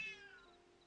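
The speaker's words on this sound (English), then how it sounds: "Y'all hear my cat?" A pet cat gives a single drawn-out meow, close and fairly quiet, fading away over under a second with no talk over it.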